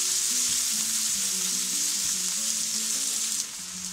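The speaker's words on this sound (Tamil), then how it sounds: "இப்போ நான் வந்து வெங்காயத்தை சேர்க்குறேன். சேர்த்துட்டு நல்லா கலக்கி" Onions fry with a loud, steady sizzle in a pan for a mango chicken curry, a continuous close hiss with faint stirring underneath.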